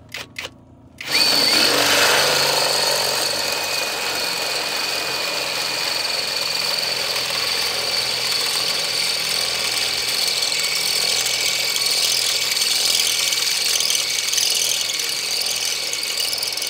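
A power tool drives screws into parts of a homemade solar generator, a steady whirring drone that starts sharply after a few brief clicks and runs continuously, close and fairly loud.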